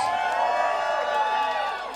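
A pub crowd cheers and whoops for a live band, a loud, sustained wash of voices with scattered shouts that tapers slightly toward the end.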